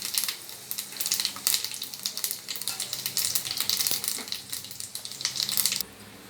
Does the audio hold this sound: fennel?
yes